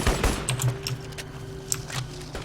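Rapid bursts of automatic gunfire in the shooter game Crysis, a dense rattling volley over a steady droning game soundscape, loud and close with no pauses.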